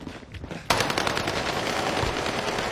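Sustained automatic gunfire in a shooter video game, a dense rapid burst starting abruptly and continuing loud and steady to the end, with faint game noise beforehand.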